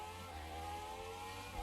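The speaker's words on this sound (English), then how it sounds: "we've got the V10 in this car, so it'll sound pretty nice for us" A V10 Formula 1 car engine revs hard at Suzuka in F1 2020, a steady high-pitched droning whine held close and loud for a brief moment.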